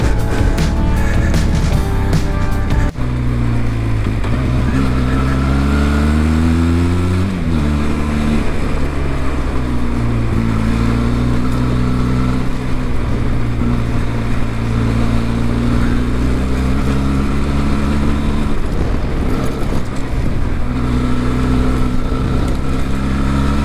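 A Benelli TRK 502X adventure motorcycle climbing a rocky hill in the Pyrenees, its parallel-twin engine droning loud and close with rising and falling revs as the throttle shifts, heard alone without talk.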